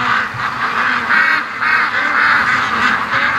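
Ducks on a farm raised for charity quack and honk in repeated bursts, a steady chorus of nearby birds agitated by gusts of wind, with no talking.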